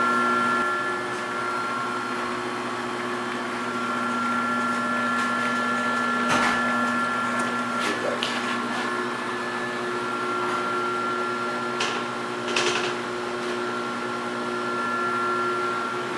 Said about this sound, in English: we're going to increase the speed of the machine so we can have it more thoroughly mixed